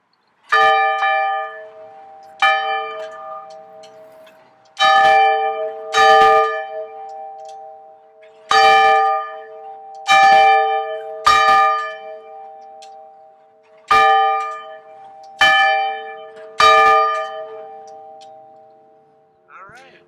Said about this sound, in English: we're going to end our presentation today with the ringing of the bell